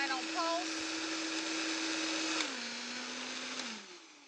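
Food processor or blender motor running in a home kitchen for a final pulse on a Cajun chicken dinner side, a steady whine that drops in pitch and winds down after a few seconds, close and moderately loud.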